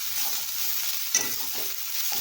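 Onions with coriander leaves stirred and sautéing in a pan, a steady soft sizzle with a few scraping stirs, close and fairly quiet, no voices.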